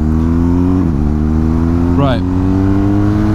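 A BMW R1250GS motorcycle engine drones loud and steady as the bike accelerates in first gear from walking pace on a road, the pitch climbing, with a rider speaking briefly over it.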